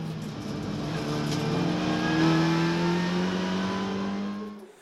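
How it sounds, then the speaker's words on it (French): Onboard a Honda Civic touring race car at a TCR Benelux race start, the engine revs loud and steady, climbing in pitch through the gears before dropping away at the end, with no voices. "On revoit le départ dans l'habitacle de la Honda Civic."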